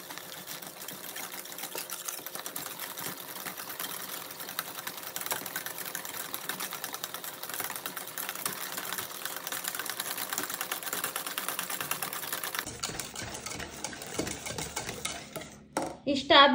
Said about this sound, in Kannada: ಇವಾಗ ಮತ್ತೆ ಅದೇ ಥರ ವಿಸ್ಕ್ ಮಾಡ್ಕೋಬೇಕು ಚೆನ್ನಾಗಿ